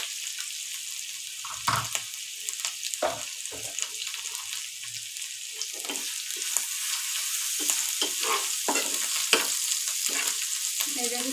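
Ground turmeric, chili and cumin frying in oil in a pan: a steady bright sizzle with repeated scraping stir strokes and soft clinks, close and fairly even throughout, without speech.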